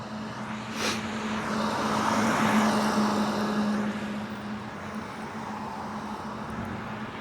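Several cars pass nearby on a roadway while a rider on a RadRover 5 e-bike waits, the broad whoosh swelling to a peak and then easing into a steady traffic hum.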